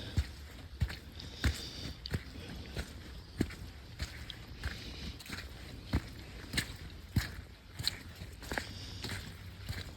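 Footsteps squelching through mud on a hiking trail in a Mohican State Park valley, a steady walking rhythm of soft, close, wet steps with no talk.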